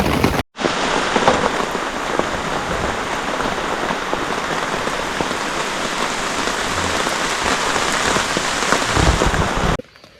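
Rain falls steadily on a campsite during a rainy backpacking trip, with a dense, loud, close patter of drops on surfaces. It runs unbroken for nearly the whole stretch, with no voices.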